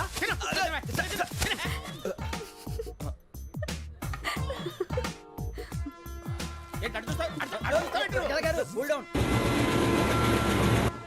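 A train moving in a Telugu comedy scene, heard as a continuous rumble beneath steady talk and laughter, with a louder, broadband rush in the last two seconds.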